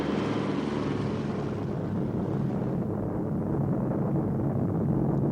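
Propeller engines of a Boeing Clipper airliner drone in a steady, loud, broadband roar that holds without a break, easing slightly in the upper range partway through.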